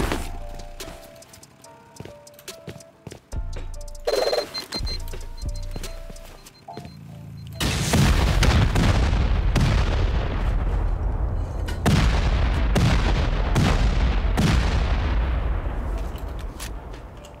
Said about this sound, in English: Gonna go straight for C4 here.